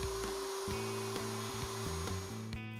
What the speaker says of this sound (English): The socket board is routed by moving in and out of the template openings.